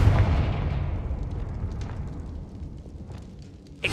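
A Confringo spell explosion in Hogwarts Legacy: a deep rumbling boom that fades slowly over several seconds, followed by a small sharp pop at the end.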